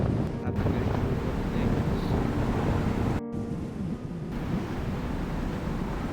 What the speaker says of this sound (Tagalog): Sobrang lakas ng hangin, hindi ako mapagpalipad ng drone.